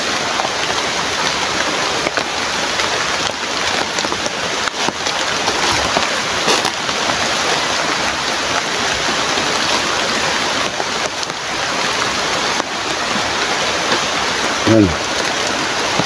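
Heavy rain pouring down hard on a house, a loud, dense, unbroken hiss of drops that lasts throughout, with a brief spoken word and a short voiced sound near the end.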